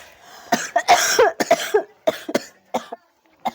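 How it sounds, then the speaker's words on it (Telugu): Someone nearby coughs repeatedly in a string of sharp, harsh bursts, loud and close, spaced unevenly over a few seconds with short pauses between them. "దగ్గు"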